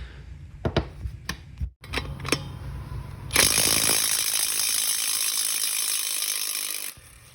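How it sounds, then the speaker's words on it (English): Electric 3/8-inch cordless impact wrench struggling to remove a lug nut: a few short ratcheting bursts, then a sustained loud whirring hammer run of several seconds that cuts off abruptly, close up. "it is struggling a little bit more to get the lug nut off"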